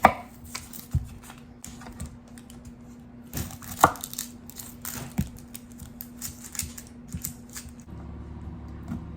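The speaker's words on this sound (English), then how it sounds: "You can cut your onion any way you like. I'm just making large slices." A knife slices ordinary onions on a cutting board into large slices, producing a series of irregular close tapping cuts and board knocks, fairly quiet and without voices.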